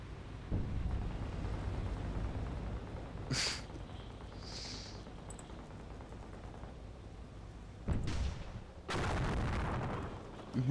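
Battle sounds from Company of Heroes, with heavy artillery booms and gunfire in separate bursts spread across the stretch, some thudding low and others sharp and loud, over a quieter background rumble.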